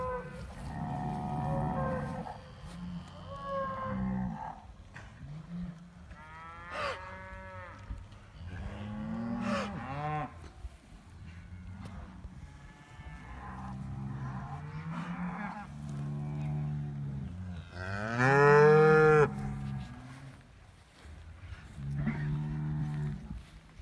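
Loud, deep cattle bellows repeat again and again, long drawn-out moos rising and falling close by, with no talking.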